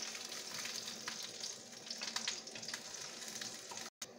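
Ginger and garlic fry in hot oil with a steady, soft, close sizzle and faint crackling throughout, with no talking, cut by a brief silent gap near the end.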